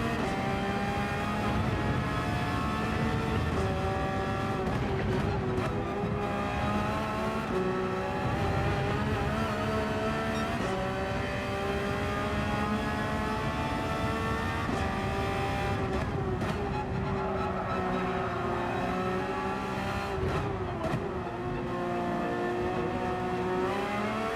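Race car engine in the Gran Turismo 7 video game during a daily online race, a steady, loud harmonic drone with rising and falling revs through gear changes, continuous throughout with no talk.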